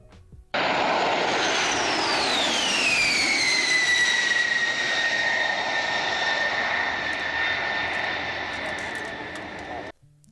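B-52 Stratofortress flyover powered by eight Pratt & Whitney J-57 jet engines: a loud, sustained roar with a whining tone that sweeps down in pitch as the bomber passes, then steadily fades away.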